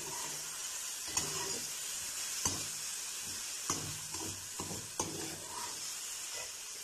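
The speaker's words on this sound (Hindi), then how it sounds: "अपनी सवाइयाँ जो हमने रखी है वो सारी घी के अंदर डालेंगे" Vermicelli (sawaiyan) stirred and fried in melted desi ghee for a village-style dessert, with steady broadband sizzling throughout and several sharp spoon scrapes against the pan at irregular intervals, close and fairly loud.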